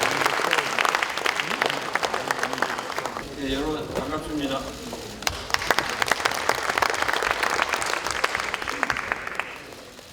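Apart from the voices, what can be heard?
audience applause at party workshop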